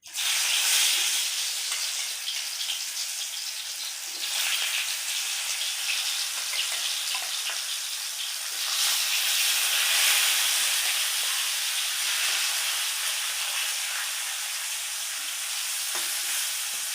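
Bitter gourd frying in oil in a pan, a loud, steady broadband sizzle and crackle that carries on without a break, with no talking over it.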